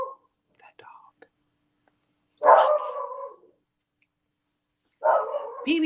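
A dog barks indoors in two loud, drawn-out bursts separated by a few seconds of quiet, with soft faint sounds in the gaps before them.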